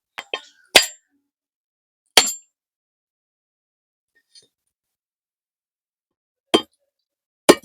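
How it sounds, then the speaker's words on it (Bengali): A large coconut being cracked open: a few sharp, hard knocks and clinks spaced apart with long silences between, close and fairly loud, no talking. "একটা বড় নারকেল নিয়েছি নারকেলটা ফাটিয়ে কুড়িয়ে নেবো"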